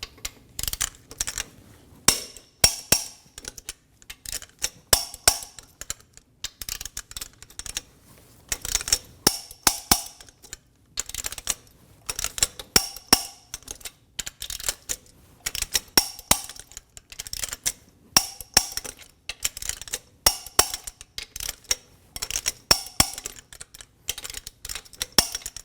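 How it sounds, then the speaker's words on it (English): A torque wrench clicks again and again as the lug nuts are tightened in a star pattern to 130 foot-pounds on a 2019-2025 Ram 2500 during a front brake job. Sharp, close clicks come in irregular clusters with short pauses between them. "Torque the lug nuts in a star pattern to 130 foot-pounds."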